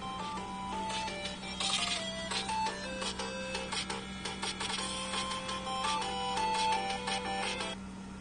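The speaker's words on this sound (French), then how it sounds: "Je crois que tu as ton téléphone qui sonne, Laurent." A mobile phone rings with a bright, repeating electronic melody over a steady low hum, continuing for several seconds with no talking.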